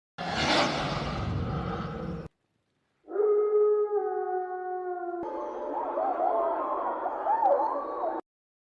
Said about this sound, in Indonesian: Suara lolongan panjang dan berat, penuh kemarahan dan ancaman.